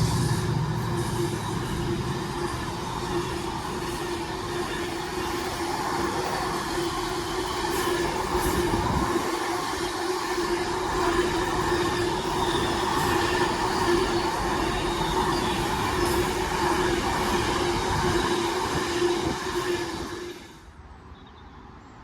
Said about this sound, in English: it's going to be a freight train from Daventry DOS to Coatbridge